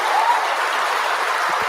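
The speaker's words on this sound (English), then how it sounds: "You see the round of applause?" Applause from a political audience fills the short stretch, a steady dense wash of clapping with no break, fairly loud and close.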